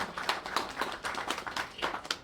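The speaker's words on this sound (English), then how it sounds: "Let's give a big clap to our leaders." An audience at an official political speech event claps for its leaders, a brisk round of many overlapping hand claps in quick rhythmic bursts, moderately distant.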